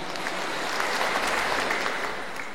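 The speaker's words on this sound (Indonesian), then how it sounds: "Ini Profesor ke-118 di Universitas Semarang. Tepuk tangan." Sustained, full applause from a large audience at a professor's inauguration ceremony at Universitas Semarang. Many hands clap in a thick, even roar that stays steady for several seconds with no one talking over it.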